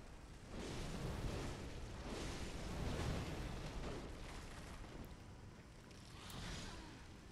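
A worm explosion in the Bloodborne video game: a heavy rumbling, roaring burst that swells for a few seconds and then slowly fades into a lingering windy hiss.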